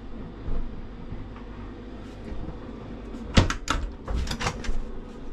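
A wardrobe door under the bed steps of a new Swift Kon Tiki 884 motorhome being opened and shut, with sharp clacks and knocking bumps close by after a quiet stretch.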